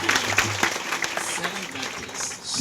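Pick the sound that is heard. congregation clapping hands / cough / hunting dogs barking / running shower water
congregation clapping hands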